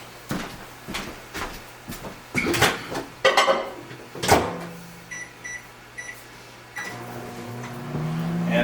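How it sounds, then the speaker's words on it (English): A kitchen microwave oven is loaded with a series of knocks and clunks, followed by short keypad beeps and then a low steady hum as it begins heating. "So we'll put this in the microwave for 1 minute and 15 seconds."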